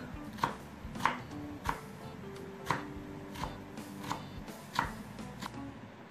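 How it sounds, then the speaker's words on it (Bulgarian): A knife chops a cabbage leaf finely on a board, about eight crisp, evenly spaced cuts, close and fairly quiet with no voices. "вземаме самия лист и го нарязваме на ситно"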